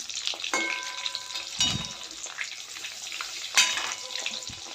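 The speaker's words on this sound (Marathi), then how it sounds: "वडे एका बाजूने चांगले भाजलेले आहेत आता हे उलटून घेते मी" Aloo vadi (colocasia leaf rolls) sizzle steadily as they fry in a pan, with clinks and scrapes as pieces are flipped over, close and fairly loud with no talking.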